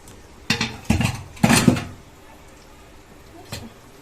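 Metallic clanks and knocks as a pressure cooker lid is worked open after water is poured over it, cooling the lentils inside; a few close bangs clustered together, then a lone clink after a pause.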